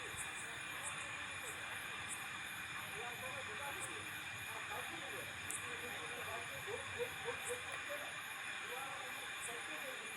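Village-style chicken curry gravy simmers in a pan, giving a faint, steady hiss scattered with soft bubbling pops throughout.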